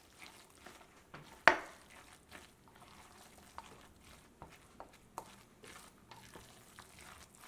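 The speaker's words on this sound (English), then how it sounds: "We're going to just stir this and mix this all together." Cornbread dressing being stirred and mixed together in a bowl, with soft scraping and clicking spoon strokes at an irregular pace and one sharper knock early on, close and fairly quiet with no talking.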